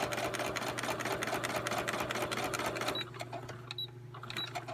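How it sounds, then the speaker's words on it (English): A sewing machine stitches around the corner of a pocket notebook, a fast, close mechanical rattle that stops abruptly, followed by a few slower stitches and clicks. "when I get to the corner, I'm just gonna turn it and take a few stitches"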